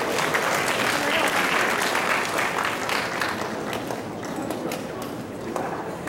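Audience applause at a school graduation ceremony at Washington High School, a steady dense clapping that stays loud across the clip and eases slightly toward the end, with faint murmuring voices mixed underneath.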